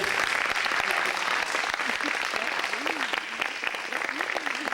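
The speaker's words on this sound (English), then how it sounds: "I would really appreciate if you would join me in some applause for Amy" Audience applause for Amy at a community learning workshop on stress, steady and dense across the whole stretch, with faint voices mixed in beneath it.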